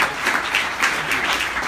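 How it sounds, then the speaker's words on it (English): A classroom audience claps in a brief burst of applause, a dense, even patter of many hands at close range. "Guys, let's give her a round of applause."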